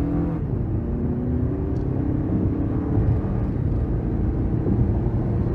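A 2023 Toyota Highlander Limited turbo AWD accelerates under throttle in automatic mode, heard from inside as a steady, loud low engine and road rumble with no talk.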